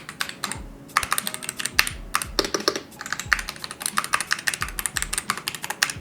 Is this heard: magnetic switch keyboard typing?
yes